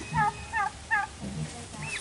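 A tom turkey gobbles close by in three quick rattling bursts, followed by softer low clucks and a brief high call.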